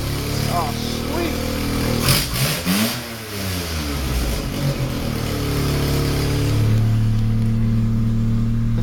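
Car engine revving hard in first gear with no axles fitted, the pitch climbing and falling in sweeps as it winds up and settles, someone talking over it throughout.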